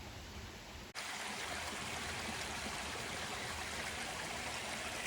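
A forest creek near an old Prohibition-era whiskey still on Catoctin Mountain runs steadily, with continuous broadband rushing and splashing water that stays close and fairly loud throughout after a brief quieter start.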